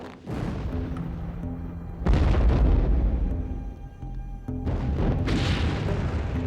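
Dynamite blasts in the Culebra Cut during Panama Canal construction: three heavy booms in a row, each followed by a rolling rumble that fades before the next one hits.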